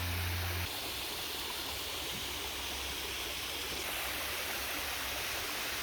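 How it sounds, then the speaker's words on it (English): Creek water rushes continuously at the base of a waterfall on Vancouver Island, heard from a bridge as a loud, steady broadband roar with no voices. "Love the sound of the water."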